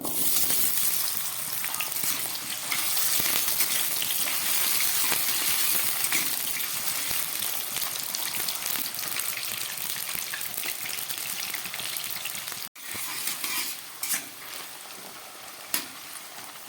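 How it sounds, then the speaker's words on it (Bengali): Potatoes fry in mustard oil in an iron wok, giving a loud, dense, unbroken hiss close up, with a brief lull and a few clinks of stirring near the end. "আলুগুলো একটু হালকা ভাজা হয়েছে"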